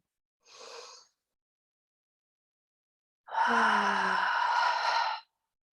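A deep breath drawn in during a guided breathing exercise: a short soft breath, a pause, then a long loud airy inhale-exhale lasting nearly two seconds, close to the mic, with no talking.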